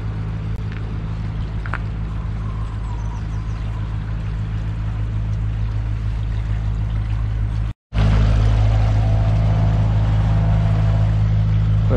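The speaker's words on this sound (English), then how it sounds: "Here's a boat coming along, just about to go over the aqueduct." A narrowboat engine hums low and steady nearby as it crosses an aqueduct in Rugby, mixed with a constant rush of flowing water. The sound cuts out briefly near the end.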